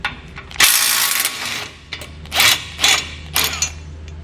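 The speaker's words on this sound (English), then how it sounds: "we're going to remove our tow hooks using a 19mm socket for the bolt furthest towards the rear" Socket wrench ratcheting out the tow hook bolts on a 2019 Ram 1500 with 19mm and 21mm sockets, a long close clicking run followed by several shorter bursts of rapid ratchet clicks.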